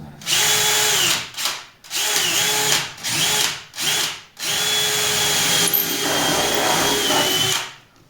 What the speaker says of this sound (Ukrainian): Обов'язково обов'язково маємо просвердіти деталь одну і другу наскрізь